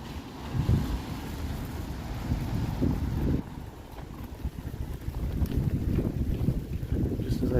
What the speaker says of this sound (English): Just as I say that, the wind kicks up.